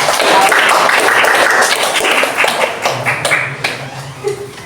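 Students in a classroom break into applause for a presenter speaking during a Youth Pledge Day talk, a dense patter of hand claps starting loud and thinning out over a few seconds.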